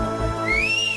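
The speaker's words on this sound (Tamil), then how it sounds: "எவன்டா அவன் விசில் அடிச்சவே?" A person gives a single brief rising whistle, clear and fairly close, over a steady background hum on a Tamil TV comedy show.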